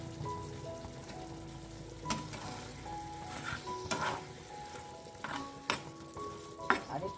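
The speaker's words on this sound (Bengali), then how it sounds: "চিংড়ি রান্না হচ্ছে" Shrimp frying in a pan gives a steady low sizzle with scattered pops and stirring clatters, close by and moderate in level, with no talking.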